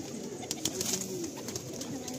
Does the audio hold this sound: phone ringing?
no